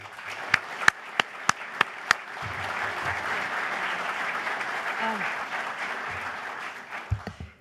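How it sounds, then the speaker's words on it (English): An audience applauds as the Secretary of Homeland Security is welcomed on stage: a few sharp, isolated claps first, then sustained, moderately loud applause filling the room before it quickly dies away. "So please join me in welcoming Secretary Nielsen."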